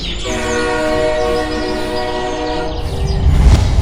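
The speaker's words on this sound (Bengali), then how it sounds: "আমি বাড়ি থেকে টাকাটা আনতে ভুলে গেছি, এখনই ট্রেনটা চলে আসবে" An arriving train sounds its horn in a long, steady, loud blast, with the low rumble of the approaching train building toward the end.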